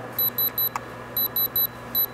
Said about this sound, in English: I love beeping sounds.